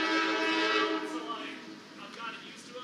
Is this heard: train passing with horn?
yes